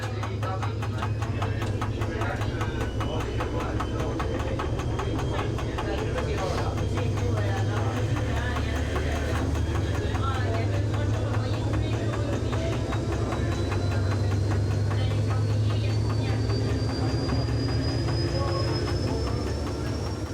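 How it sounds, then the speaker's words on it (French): Saurer diesel engine and De Dietrich automatic gearbox of the X 4519 railcar working as it pulls away on the Cahors line, a steady loud engine drone with rail rumble and rising whine throughout the run. "nous allons redémarrer en écoutant travailler le diesel Saurer et la boîte de Dietrich"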